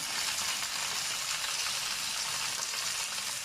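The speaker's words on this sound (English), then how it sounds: "Now I add the tomatoes" Fresh tomatoes hit a hot pan for a Sicilian spaghetti with mussels, giving a steady, close, dense sizzle that holds level throughout with no talking.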